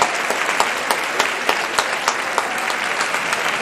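A theatre audience at the Teatro Goldoni in Livorno applauds the cast of the Brundibar opera, a full, sustained round of clapping from many people with a few louder individual claps close by.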